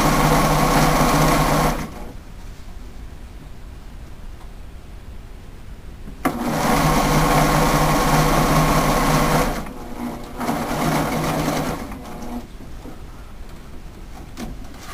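A sewing machine stitches a zipper in bursts of steady high-pitched whirring, running loud and close, pausing, then starting again, with no talking.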